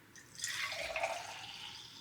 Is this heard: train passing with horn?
no